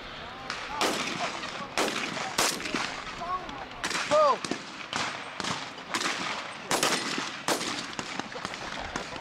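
Gunshots ring out at a Southern Regional 4-H youth shooting sports competition, a steady series of sharp, fairly close reports spaced a second or so apart, with faint voices and outdoor ambience between them.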